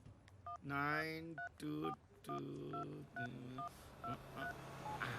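A series of electronic keypad dialing tones, one short beep per digit, with someone speaking between the tones.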